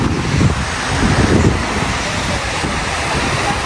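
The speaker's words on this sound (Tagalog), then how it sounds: "Medyo malakas na yung alon" Strong sea waves and gusting wind along the shore at Mabini, Batangas, a continuous loud roar and rush of surf with heavy wind buffeting the microphone throughout.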